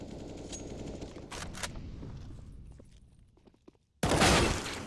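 Gunfire in the video game CS:GO during a LAN tournament match, with rapid bursts of shots and clattering action that fade to near silence before a loud sudden blast of shooting.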